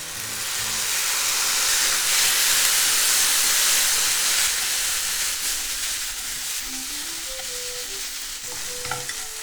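Mushrooms frying in a pan with their own released liquid, a loud steamy hiss and sizzle that swells early then eases slightly, heard close with occasional utensil clinks.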